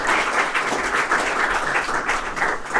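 Steady applause from an audience gathered for a naval academy and NDA cadet experience-sharing session, dense continuous clapping at even loudness throughout.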